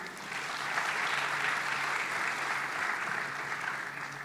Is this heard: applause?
yes